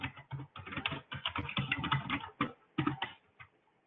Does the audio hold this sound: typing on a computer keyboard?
yes